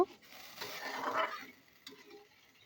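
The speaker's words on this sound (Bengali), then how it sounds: "ভালোভাবে নেড়ে চেড়ে একটু মিশিয়ে নেব।" A spoon stirs fish curry masala with added water in a pan, giving a soft scraping swirl that swells and fades, followed by a brief clink and quieter stirring.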